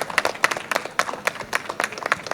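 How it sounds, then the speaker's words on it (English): A small crowd at a film pre-release event gives scattered applause, distinct sharp claps from a few people arriving in irregular bursts rather than a full roar, fairly close and clear. "Can I have a big round of applause for them?"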